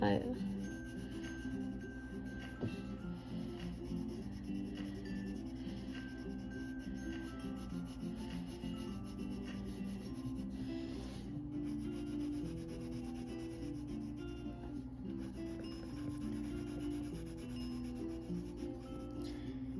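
Colored pencil rubbing steadily on thick color-by-number paper, a faint continuous scratchy scrape with a low hum in the background.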